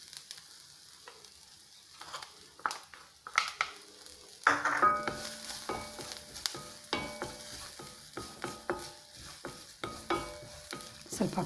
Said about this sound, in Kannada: ಇದನ್ನು ಸ್ವಲ್ಪ ಫ್ರೈ ಮಾಡಿಬಿಟ್ಟು ಇದಕ್ಕೆ ಈರುಳ್ಳಿ ಹಾಕ್ತಾಯಿದ್ದೀನಿ.